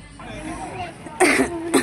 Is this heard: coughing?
yes